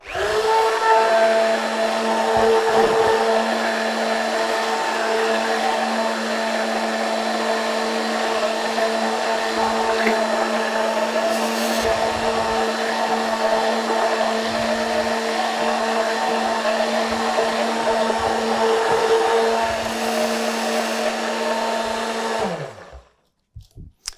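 An electric mixer whirs at a steady, loud pitch for about twenty-two seconds, blending a strawberry sorbet base with syrup of water, sugar and pectin, then winds down and stops.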